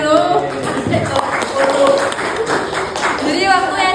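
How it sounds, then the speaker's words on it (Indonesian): A classroom of pupils claps hands, the rhythmic, uneven claps mixed with children's voices chattering and calling out over them, fairly loud and close. "tepuk tangan dulu."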